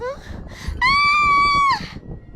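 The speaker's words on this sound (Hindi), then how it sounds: "बाहर बिजली की चमक में प्रीति को किसी की साया दिखाई पड़ती है, जिसे देख प्रीति चीखती है।" A girl's horrified scream in a Hindi horror story, set off by a shadow glimpsed in a lightning flash: one loud, sustained, piercing shriek close up, lasting about a second, with softer voicing before it.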